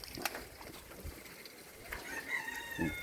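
Soaked, wet chickens cluck and squawk in short bursts against a background of steady outdoor rain, with a louder low cluck near the end.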